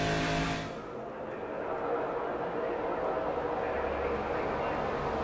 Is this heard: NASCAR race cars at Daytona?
yes